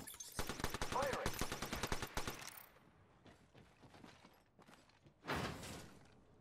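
Rapid automatic gunfire in Apex Legends rattles out in a dense burst, then thins into scattered quieter shots, with a final loud blast near the end.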